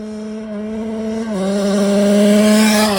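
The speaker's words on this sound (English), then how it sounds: "That time I had a load of tire spin, so it was a lot slower, almost a whole second slower" A Honda accelerating hard with its tires spinning: a loud, close engine note holds steady, then climbs in pitch and grows louder over about three seconds, with no talking.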